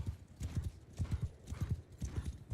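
Horse hooves galloping across open ground during a cavalry charge in Mount & Blade II: Bannerlord with the Old Realms mod, a steady rapid clip-clop rhythm, close and fairly loud, continuing throughout without speech.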